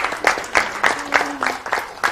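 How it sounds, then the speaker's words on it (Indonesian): An audience at a university faculty talk event claps in an even, rhythmic beat, the claps close and fairly loud. "Boleh diberi tepuk tangan lagi kepada narasumber kita yang luar biasa"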